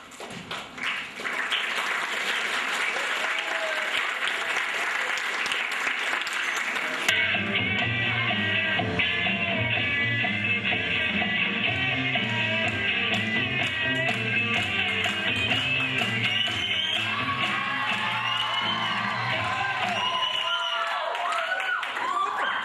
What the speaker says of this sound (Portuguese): os aplausos de vocês para os alunos da Escola Ativa Idade que apresentaram o espetáculo A Síndrome de Lamborghini